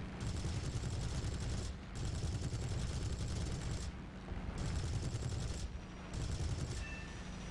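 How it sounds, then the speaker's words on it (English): Aircraft machine guns firing at an I-15 in the War Thunder video game, four long rattling bursts separated by short gaps, dense and steady over a low engine drone. "let's take a couple of shots at this I-15."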